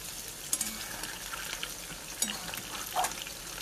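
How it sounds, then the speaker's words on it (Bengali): Pakoras frying in hot oil, a soft, steady sizzle that stays fairly quiet, with a few brief sharper crackles and pops. "আর এখানে ভাজা হচ্ছে পকোড়া।"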